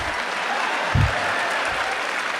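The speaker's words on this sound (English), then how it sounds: "give Evan a round of applause" Audience at a University of Michigan campus event claps for someone named Evan, a steady, fairly loud patter of applause with one brief low thump partway through.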